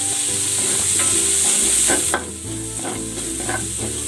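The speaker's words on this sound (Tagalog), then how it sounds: "Magigisa na ako ng bawang. At ng sibuyas." Garlic and onion sautéing in a pan for pork menudo, a steady loud sizzle with stirring scrapes and clicks of a utensil throughout, dropping slightly in level partway through.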